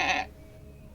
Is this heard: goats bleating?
yes